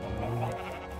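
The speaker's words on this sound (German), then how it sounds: "Schaf mit blutendem Auge." A sheep from the video game Minecraft gives a single wavering bleat that fills the short clip, close and fairly loud, with no voices.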